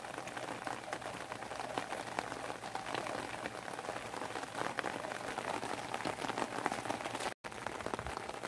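Steady rain falls on Jeju Island, a dense, continuous hiss and patter of drops on surfaces that holds evenly throughout, with only a momentary dropout near the end.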